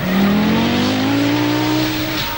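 An Audi Quattro Group B rally car races past close by, its loud engine note climbing steadily in pitch as it accelerates hard, filling the whole moment.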